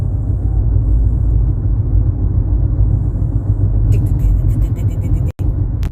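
Inside a rental car driving with a bolt stuck in a tire, a loud steady road rumble fills the cabin, joined near the end by a faint rapid ticking that repeats with the wheel's rotation.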